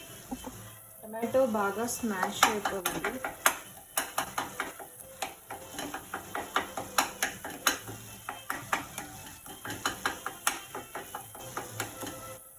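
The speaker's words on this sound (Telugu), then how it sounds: "టమాటో బాగా స్మాష్ అయిపోవాలి." Tomatoes being mashed in a pan for tomato chutney, with steady, rhythmic scraping and clacking of a utensil against the pan and a light sizzle under it. No one speaks.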